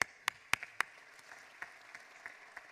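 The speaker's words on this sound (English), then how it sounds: "We can applaud together Sweden." Scattered claps from a conference audience applauding Sweden, a handful of sharp isolated hand claps early on thinning to faint sporadic ones, with no sustained ovation.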